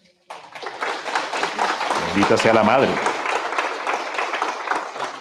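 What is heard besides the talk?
applause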